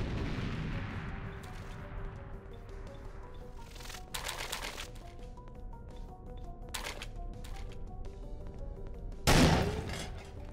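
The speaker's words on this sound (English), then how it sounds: "Shotguns are fucking OP in this game." Shotgun fire in GoldenEye: Source: a few sharp, separated blasts, the loudest near the end, with a fading boom at the start and quiet gaps between shots.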